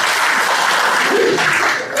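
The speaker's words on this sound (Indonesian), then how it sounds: "teman-teman apapun hasilnya tepuk tangan dulu boleh ya" Students in a classroom break into steady, even applause, a dense patter of many hands clapping together close by for about two seconds.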